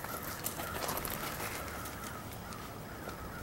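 A large flock of crows flies over outdoors, several harsh caws overlapping in a dense chorus against steady background noise, moderately loud and without speech.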